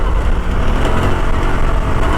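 A Honda Transalp 750 motorcycle climbs uphill off-road across a field, its engine producing a steady, loud, close rumble with no pauses.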